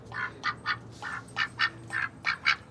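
A pet duck quacks in a string of about eight short, fairly close calls, grouped in pairs and threes, with a faint low hum underneath and no one talking.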